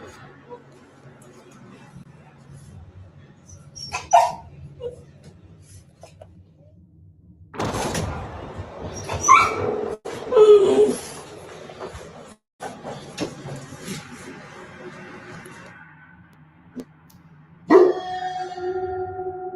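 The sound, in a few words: family dogs barking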